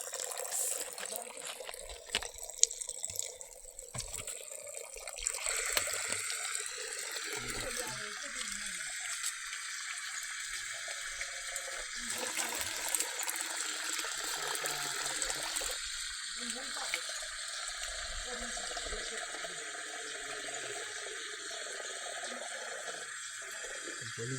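Water runs from a tap into a container in a rural home, a steady bright hiss that continues throughout with small fluctuations, while voices talk intermittently nearby.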